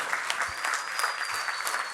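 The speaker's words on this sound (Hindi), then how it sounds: "खड़े होकर जोरदार तालियां बजाई जाए" Sustained applause from an audience at an Urdu poetry mushaira in Abu Dhabi, a steady, fairly loud roar of many hands clapping with a faint high tone running through it.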